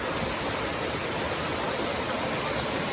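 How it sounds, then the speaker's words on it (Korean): A moss-covered waterfall on Gariwangsan mountain makes a steady, dense roar of rushing water. It is loud and continuous, with no voices over it. "가려왕산 이끼 폭포 칠폭."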